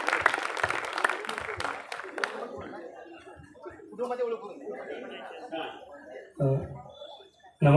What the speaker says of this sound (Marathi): या कुटुंबियाचं आपण टाळ्या वाजवून स्वागत करूया.